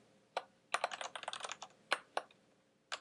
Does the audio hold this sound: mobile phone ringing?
no